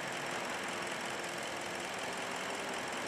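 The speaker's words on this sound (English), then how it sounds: "Have a look how smooth that engine's running now" A car engine idles steadily in the background after a crankshaft position sensor fault was fixed, a faint, even hum with no surges or stumbles.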